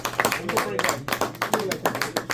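A small class claps for a student during a calculus lesson, producing a short burst of quick, fairly quiet claps close to the microphone, with voices talking over them.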